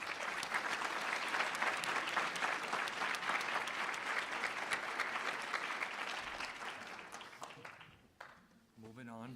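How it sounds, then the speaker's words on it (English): A conference audience claps through a closing keynote, giving steady, dense applause that tapers off near the end. "Give him a big hand of applause."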